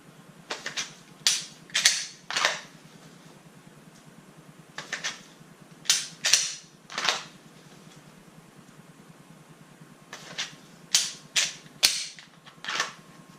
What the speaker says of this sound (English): Here's me switching mags on them.